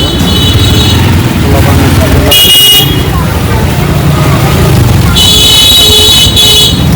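A loud morning traffic jam on a Dhaka street rumbles with engines, and two bursts of car horns honk sharply, one near the middle and another toward the end, over constant road noise and a voice talking.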